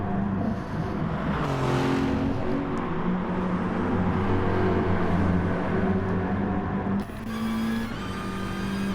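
Touring cars racing at Monza in a video game: a continuous loud roar of several engines at close quarters, pitches rising and falling through gear changes, with a brief shift in tone near the end.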